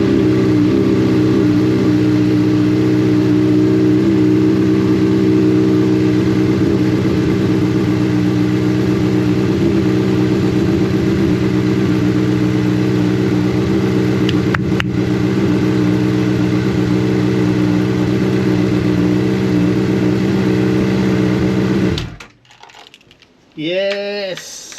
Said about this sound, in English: I'm going to turn on the engine.